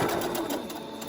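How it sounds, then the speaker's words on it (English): A sewing machine stitches steadily over pleated cloth on a face mask, a close, continuous mechanical whir with fast needle rhythm, heard alone. "when we sew over the pleats, when going under the presser foot, they might try to pick themselves back up"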